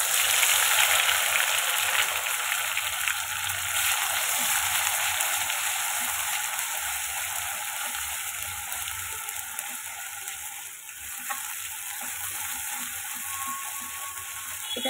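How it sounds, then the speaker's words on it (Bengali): Ground spice paste frying in hot oil while being cooked down until red, with a steady, loud, close sizzle that holds throughout with little change. "তো এখন মশলাটা সুন্দরভাবে কষাবো যতক্ষণ না ভালোভাবে লাল হয়ে যাচ্ছে মশলাটা"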